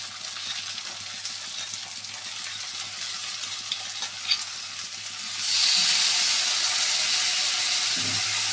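Boiled chickpeas tipped into a hot pan, sizzling steadily under faint stirring clicks, then a sudden louder, brighter hiss of frying that carries on to the end.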